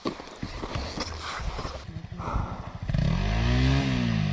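A motorcycle engine revs and labours near the close while climbing a rutted dirt track on volcanic terrain in Indonesia, the note rising steadily after clattering, uneven footsteps-like knocks and a brief voice earlier.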